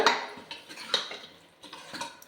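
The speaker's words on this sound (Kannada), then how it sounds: "ಇವಾಗ ಇದನ್ನು ನೀಟಾಗಿ ಮಿಕ್ಸ್ ಮಾಡೋಣ" A spoon stirs mutton with turmeric powder and salt in a pot, making close, irregular metallic clinks and scrapes, a few strokes spaced across the moment, with no talking.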